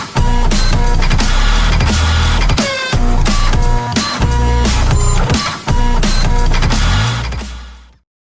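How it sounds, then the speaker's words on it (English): A printer jamming, played as a sound effect in a local business advertisement: loud, continuous mechanical whirring, clunking and grinding in busy repeating bursts for about eight seconds, with no talking. "Printer, Jam."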